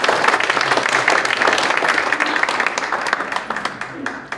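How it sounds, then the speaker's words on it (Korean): Applause at a church elders' association general meeting and thanksgiving service fills the room as a dense, steady clatter of many hands, fading slightly toward the end. "다시 한번 큰 격려의 박수를 부탁드립니다."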